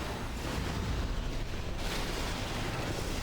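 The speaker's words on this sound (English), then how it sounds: "These massive explosions." A trap in Demon's Souls sets off massive explosions, heard as a dense, loud, continuous rumbling roar with booming bursts throughout and no talking.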